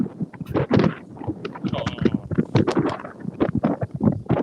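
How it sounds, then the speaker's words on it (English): Someone talks outdoors at the Grand Floridian resort, by the water, while wind rumbles and thumps against the microphone in uneven gusts. "Sounds very windy."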